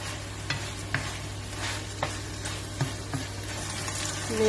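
Pork being stirred in a sizzling pan for pinakbet, with a steady frying hiss and several distinct scraping stir strokes close by, no talking.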